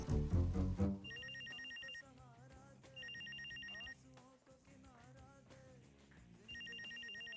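A telephone rings in repeated electronic bursts of about a second, separated by pauses, over background music and sound effects. The ringing is clear and moderately loud.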